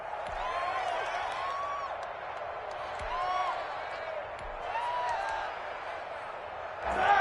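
A stadium crowd in an American football video game roars and cheers in swelling waves at moderate volume, with a commentator's voice talking over it.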